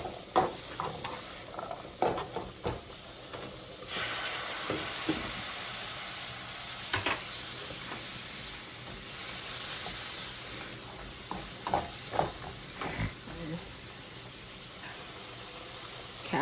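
Carrot sautés in a pan for a spaghetti shrimp stir-fry, a continuous hissing sizzle broken by repeated scraping stirs, close and fairly loud with no talking.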